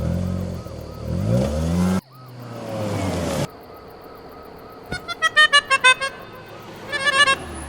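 Engine revs and moves off as a car pulls away nearby, with a loud burst at the start, then quieter rumbling and a run of rapid clicking or beeping pulses near the end.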